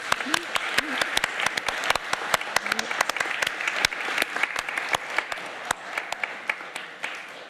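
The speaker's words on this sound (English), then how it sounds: "a round of applause" Scattered applause from a modest audience at an academic symposium, the Holberg Symposium, claps sharp and irregular, with a few faint voices underneath.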